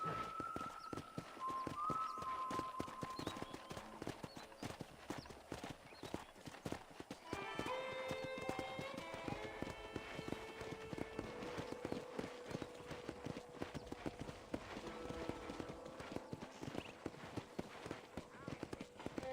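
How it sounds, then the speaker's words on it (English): Steady horse hoofbeats clip-clop throughout in the video game Red Dead Redemption, joined by a horse's whinny partway through, all over a busy background of ambient noise and music. "let's see if you can still ride a horse"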